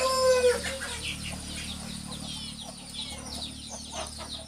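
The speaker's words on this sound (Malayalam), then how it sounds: "അപ്പോൾ എന്തായാലും നമുക്ക് കോഴികളെ കാണാം കേട്ടോ" Aseel chickens on a Kerala poultry farm are heard as a loud nearby call at the start, followed by repeated clucking and crowing from several birds over a constant low hum.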